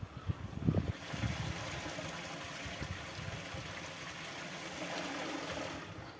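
Water running into a farm field, a steady trickling flow heard outdoors, with a few louder low splashes or bumps near the start.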